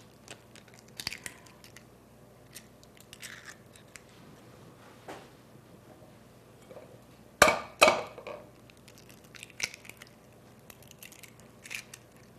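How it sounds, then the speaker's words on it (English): Four eggs are cracked for baked French toast: a few faint taps and clicks in a quiet kitchen, then two sharp, close cracks in quick succession, followed by scattered small knocks. "We're going to start off with 4 eggs. Crack those."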